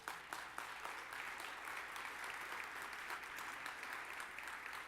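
Applause from the audience at a tech conference, Facebook Mobile DevCon London 2013, a steady wash of many hands clapping that holds for several seconds at moderate distance.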